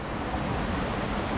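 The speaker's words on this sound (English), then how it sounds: "it sort of leads in to these beautiful free waterfalls" Waterfalls pour over rocks in a steady, dense roar of rushing water, close and unbroken, with no voices.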